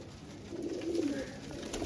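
Breeder pigeons coo softly, a low throaty burble rising briefly amid faint background noise, no voices.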